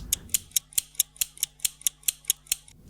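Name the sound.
scissors played as percussion, without lo-fi effects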